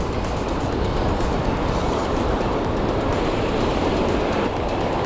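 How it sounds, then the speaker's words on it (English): Continuous roar of large ocean surf washing onto Kalapaki Beach, Kauai, Hawaii, broad steady noise with no voices, fairly close. "The waves are huge"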